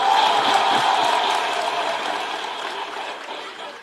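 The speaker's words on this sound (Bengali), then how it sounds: "ইমোশনস এর জন্য বটে জোরে হাত হাততালি" A hall audience bursts into steady, dense clapping that starts loud and gradually thins and fades over a few seconds, with no one speaking over it.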